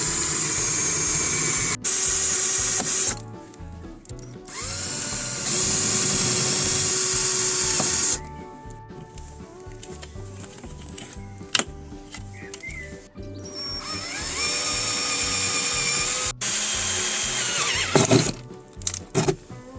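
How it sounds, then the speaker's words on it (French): Drill with a 6 mm bit boring out the rivets of a car speaker in a Renault, sustained high whining runs that stop and start several times, close and loud. "Pour les rivets, je vais utiliser un forêt de 6 mm."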